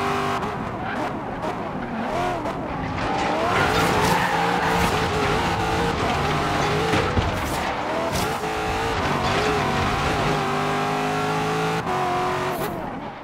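A race car drifts in Forza Horizon 3 on the Silver Sands Speedway street race, tires screeching and skidding over a loud, revving engine that climbs through the gears, with sharp bursts of squeal throughout.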